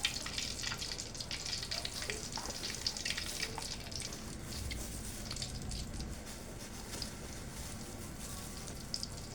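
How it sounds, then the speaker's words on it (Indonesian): Martabak fries in hot oil in a wok, a soft, steady crackling sizzle that runs evenly throughout. "ini udah siap kita goreng"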